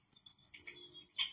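A few soft, high bird chirps played from a bird video for an indoor cat, thin and faint, with a sharper chirp near the end against near silence.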